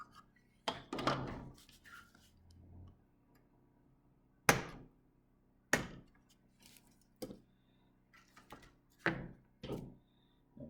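A hobby chisel point cuts small cast metal pieces from the turret overhang of a T-55 model tank, giving about five sharp, close clicks and thunks spaced irregularly with quiet pauses between.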